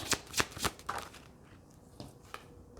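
Tarot cards shuffled by hand in a few quick riffling bursts near the start, then quieter sporadic card rustles and taps, close and fairly soft.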